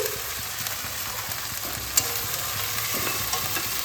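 Ground jeera and coriander paste sizzling in a pan as a little water goes in, a steady soft frying hiss with faint stirring scrapes and one brief sharp tick midway.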